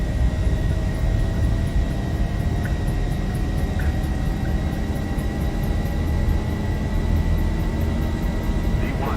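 Simulated jet engines of a Delta Boeing 737-800 in X-Plane 11 build to a steady, loud roar during the takeoff roll in a crosswind, with a constant high whine running throughout.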